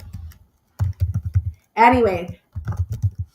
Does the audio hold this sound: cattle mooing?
no